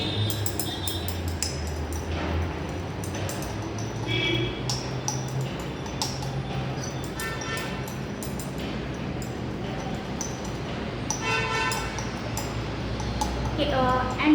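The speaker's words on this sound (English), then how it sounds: "crush the oxalic acid by stirring" Oxalic acid being crushed and stirred in laboratory glassware for a titration practical, giving repeated light glassy clinks and taps scattered through steady background noise, fairly close and not very loud.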